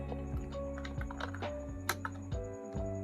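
Steady typing on a computer keyboard, with rapid close key clicks and a few louder keystrokes, heard over a faint background hum.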